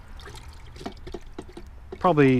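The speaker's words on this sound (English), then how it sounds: "I'm gonna put about 3-4 cups of beef broth in there." Beef broth poured into a pot fitted with a rack: a short filling gurgle with rising pitch comes at the very end, after someone talks.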